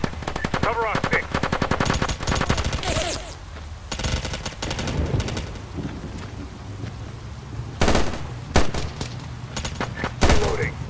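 Sustained automatic machine gun fire from SOCOM U.S. Navy SEALs Fireteam Bravo 3 combat, loud rattling bursts broken by brief pauses, with rumbling battlefield ambience underneath.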